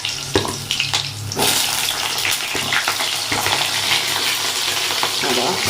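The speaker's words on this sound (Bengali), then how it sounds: "সব একসঙ্গে দিয়ে এখন ভেজে নেবো।" Potato and pointed gourd hit hot oil and tempering spices in a wok, starting with a few clatters before bursting into a loud, sustained sizzle that fills the rest of the stretch, with occasional stirring scrapes.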